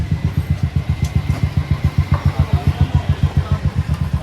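A Royal Enfield Thunderbird 350X single-cylinder motorcycle engine thumps in a fast, steady, even rhythm, loud and close, with no talk over it.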